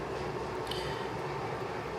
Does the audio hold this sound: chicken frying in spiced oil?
no